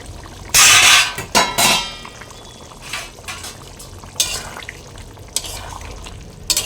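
A spoon stirs chicken curry with potatoes and tomato in a pot, giving irregular wet scrapes and sloshes over a soft background sizzle. The loudest stirs come early, with quieter intermittent stirring after.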